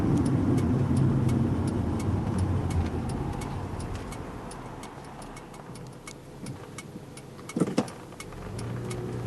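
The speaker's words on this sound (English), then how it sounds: "I was also very, very, very surprised with the quiet smoothness of this engine." A 1996 Acura TL with the 3.2 engine hums quietly and smoothly on a night drive, a steady low cabin drone with a regular ticking, like a turn signal, and a brief thump near the end.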